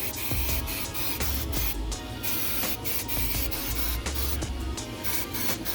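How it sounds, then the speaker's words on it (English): Repeated hissing bursts from a spray bottle misting liquid onto a whole turkey in an Oklahoma Joe's smoker, short sprays in an uneven rhythm against steady background noise, close and fairly loud. "I'm gonna come out here, spray it every once in a while."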